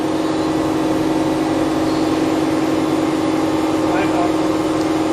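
Spindle of a Toshiba MPF-2114C 3-axis bridge-type vertical die and mold machining center spinning at several thousand RPM, giving a loud, steady, unbroken tonal hum throughout.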